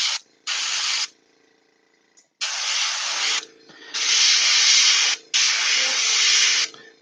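Aerosol primer sprayed onto a Guild Ball miniature in short hissing bursts, one brief, then a longer burst and two sustained ones separated by short pauses, close and fairly loud with no talk.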